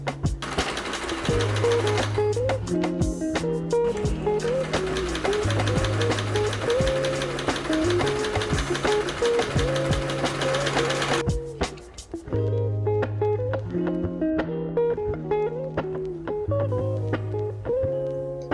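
A sewing machine stitches two sides of a brocade face mask together, running in long, steady, loud mechanical bursts with a brief pause partway before stitching resumes in shorter runs.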